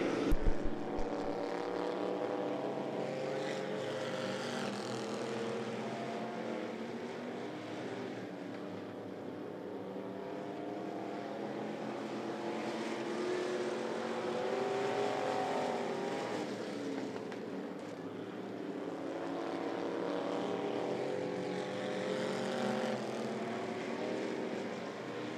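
Stock cars of the Thunder Division racing at I-75 Raceway, a continuous layered engine drone that swells and fades as the pack circles the track, heard at a distance without talk.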